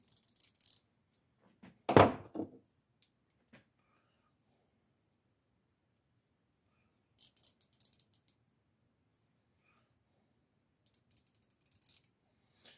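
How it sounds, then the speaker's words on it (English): Husky flex head ratchet wrench turned by hand, giving short bursts of fast, faint back-drag clicking separated by long silences, with a brief louder knock near the start. "there's definitely some back drag on this Husky"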